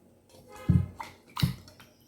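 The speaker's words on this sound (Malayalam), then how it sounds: "ഞാൻ വെള്ളത്തിൽ തന്നെ ഞാൻ കുറച്ച് വെള്ളം എടുത്ത് വെച്ചിട്ടുണ്ട് കേട്ടോ. ഞാൻ അതിനകത്ത് തന്നെ ഒന്ന് കഴുകട്ടെ." Water sloshes in a small bowl during face washing. Two distinct splashy swishes are separated by a pause, with faint drips and handling in between and no voices.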